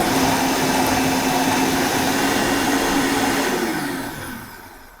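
A blender grinding tomato, onion, green chilli and garlic into a paste, its loud steady whir running close and unbroken before winding down at the end.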